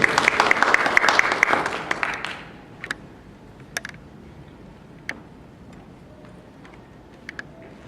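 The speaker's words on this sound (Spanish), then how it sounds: "a quien recibimos con un fuerte aplauso." Listeners at a finance seminar greet the speaker with a burst of applause that lasts about two seconds and quickly fades, leaving a quiet room with a few scattered sharp clicks and taps.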